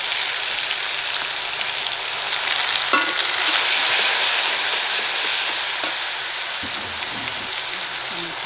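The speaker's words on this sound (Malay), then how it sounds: "Kita tumis dulu bawang merahnya," Shallots and garlic sautéing in a pan give a steady, loud frying hiss throughout, with brief clinks and scrapes of stirring and no talking.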